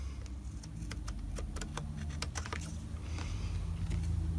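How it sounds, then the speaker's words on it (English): Scissors trimming snowflake-edged cardstock, giving a string of sharp, dry snipping clicks at an uneven pace over a steady low background hum. "now I'm going to come in with my scissors and I'm going to trim."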